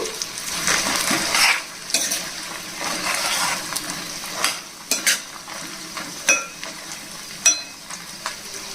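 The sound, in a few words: frying urad dal and cashews in oil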